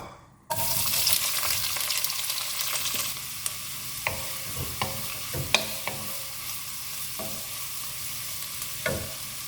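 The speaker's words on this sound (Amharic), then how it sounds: "በዚህ መልኩ ከተጠበሰ በኋላ ዘቢቡና ካሮቱ በተጠበሰበት ዘይት አሁን በቁመት የተከተፈው ሽንኩርት እንጨምራለን ማለት ነው" Lengthwise-sliced onions drop into hot oil already used for frying raisins and carrots, then keep up a steady, close sizzle with occasional sharp clicks and scrapes of stirring in the pan.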